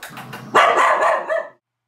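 A shy, reactive dog lets out one loud, close bark that trails into a short yelp, after a brief low whine, then the sound cuts to silence.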